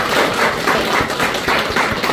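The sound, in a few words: congregation applause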